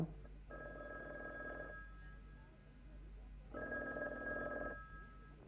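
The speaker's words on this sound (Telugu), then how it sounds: "పిల్లలు ఫోన్ చేస్తున్నట్టున్నారు తీయమంటావా" A telephone rings in two long bursts separated by a pause, moderately loud over a low steady hum.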